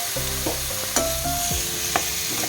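Boiled jackfruit and potato pieces fry with spices in a pan, a loud continuous sizzle broken by sharp scrapes and knocks of the stirring spoon, close up with no talk.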